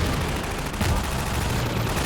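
In Half-Life 2, gunfire aimed at a gunship forms a dense, continuous barrage of rapid shots, with loud, steady noise throughout and a slightly heavier hit midway.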